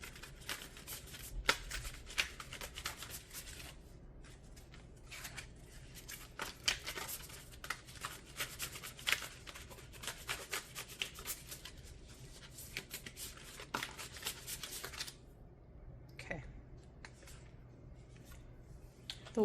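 Dark Mansion Tarot cards being shuffled by hand, a steady run of soft riffling and sliding card noise for about fifteen seconds before a few faint taps and a pause, close and moderately quiet with no talking.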